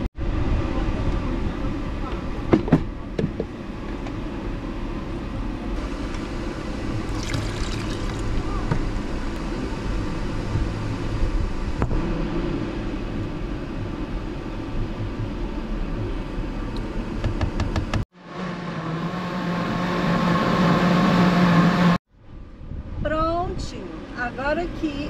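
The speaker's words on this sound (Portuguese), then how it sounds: "Agora que eu bati aqui no liquidificador" A steady, loud whirring drone of a blender mixing oats and water runs for most of the clip, cutting out briefly twice, with short gaps of quieter sound between.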